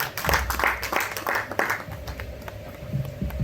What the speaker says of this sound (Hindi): जोरदार तालियों से विवेक का